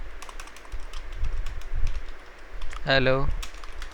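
A computer keyboard clatters with quick keystrokes while typing on a server program, and a voice speaks briefly over the clicking near the end.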